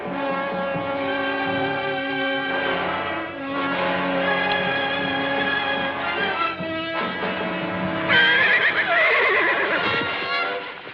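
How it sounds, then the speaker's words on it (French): A horse neighs and whinnies loudly and close, with long wavering cries that repeat and rise to a shrill trembling peak near the end, heard without talk. "Ça, bon cheval, très gras."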